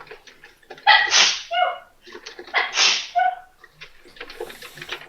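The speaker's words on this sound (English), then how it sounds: "I have to sneeze." Two loud, close sneezes, each a sharp burst with a breathy tail, one after the other, with faint rustling and small sounds between them and no talking.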